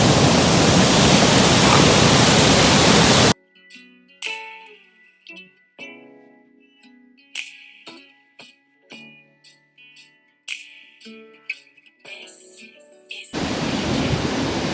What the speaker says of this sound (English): Oh, look at those waves. Holy cow. This is an active ocean.